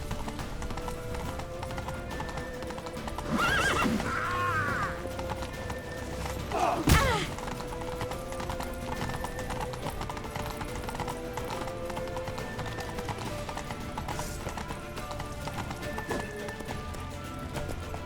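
Horse hooves clip-clopping at a gallop in The Witcher 3: Wild Hunt, a steady rhythmic patter with a brief sharp whinny and a thud partway through, under game music and ambience.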